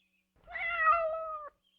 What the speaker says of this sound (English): Good kitty. Climb down.